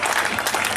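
Crowd at an Austrian men's hurdles state championship in Rif gives a brisk, dense burst of applause for runners on the home straight, loud and close.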